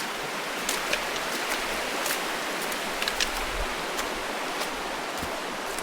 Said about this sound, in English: you are in the creek while you're crossing it